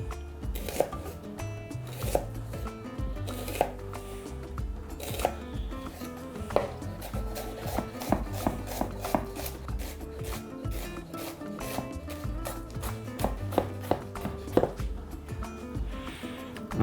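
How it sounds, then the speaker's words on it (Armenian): A knife finely chops red onion on a board in quick, steady strokes, close and crisp, the sharp taps repeating through the whole stretch with no one talking. "Մանր կտրատում ենք։"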